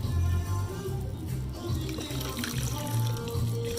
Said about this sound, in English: I'm going to add a little water to it.